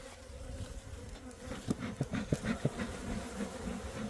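Honey bees drone in a steady, close buzz from an open beehive built from trash, with a few louder swells partway through.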